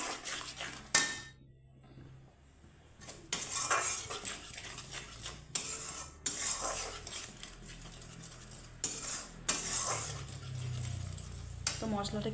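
A spoon clinks and scrapes against a bowl while mixing spice paste with salt and turmeric, in irregular bursts of metallic taps separated by quieter pauses, close up.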